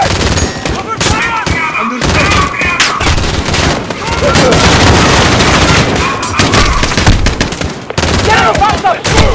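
Loud, dense automatic gunfire from the video game Call of Duty Modern Warfare 2019 rattles in rapid bursts with heavy booms, while shouted voices come through the battle noise.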